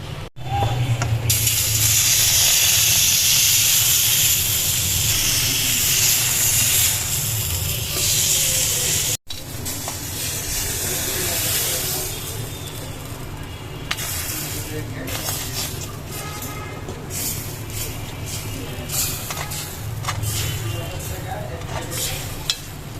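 A flipped chapati fries crisp in a hot pan, giving a loud, continuous sizzling hiss. After a brief break it settles into a busier crackle with scattered pops.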